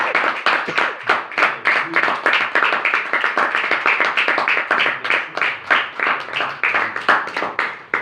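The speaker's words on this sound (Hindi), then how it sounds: "कलाम के लिए एक बार जोरदार ताली।" Congregation at a church sermon claps loudly and fast, a dense, close, rhythmic wave of hand claps that holds steady throughout without a break.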